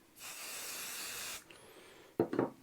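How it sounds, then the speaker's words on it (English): One short burst from a spray can onto hooped embroidery fabric hisses for over a second, then stops; a couple of soft handling knocks follow close by. "Little bit of spray."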